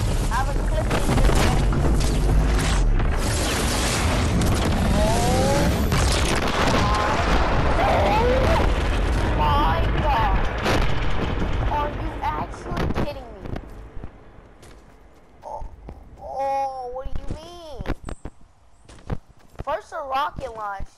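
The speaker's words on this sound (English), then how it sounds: "Rocket launch." A Fortnite rocket launch roars as a loud, sustained rumbling blast for about twelve seconds, then dies away, leaving scattered game noises and voices talking.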